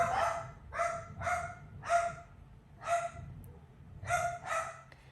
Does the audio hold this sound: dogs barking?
yes